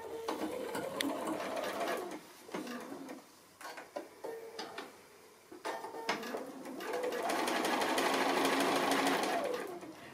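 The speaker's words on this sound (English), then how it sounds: "So it's probably good to have a little bit of stitching and then all the way around." A domestic sewing machine stitching a 1/4 inch seam on a flower pin cushion, short stop-start bursts of rapid mechanical whirring, then one long steady run of stitching, close up.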